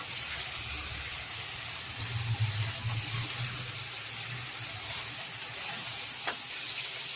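Dried fish (shutki) sizzles steadily as it is added to spice paste frying in a pan, a continuous close hiss with a low bubbling swell in the middle and no voices.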